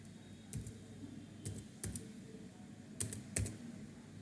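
Quiet, close computer keyboard typing: about six separate sharp key clicks spaced irregularly over a few seconds as a captcha is entered, with no talk.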